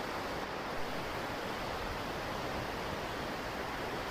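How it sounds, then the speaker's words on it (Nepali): A river stream flows on a moonlit night in Yamagata, Japan, a continuous broadband rushing of water that holds steady and fairly close for the whole stretch, with no voices. "खोला कलकल बगिरहेको छ।"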